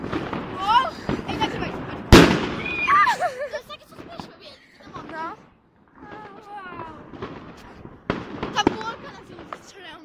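New Year's Eve fireworks cracking and booming outdoors, with several sharp bangs of varying loudness and crackles scattered across the stretch while people talk and exclaim nearby.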